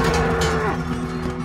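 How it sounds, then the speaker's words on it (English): A bull gives one loud, close moo, a low tonal bellow that slides downward and fades within about a second, leaving a faint background hum. "What kind of bull is that?"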